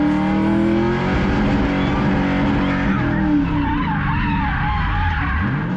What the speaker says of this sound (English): That way I can just stand on rev limiter and it sounds really sick.